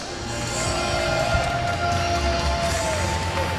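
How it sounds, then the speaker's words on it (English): A crowd at a STIHL Timbersports U.S. men's championship claps and cheers loudly and steadily in a large arena, with music playing underneath. "Please, please give a big round of applause for Roger"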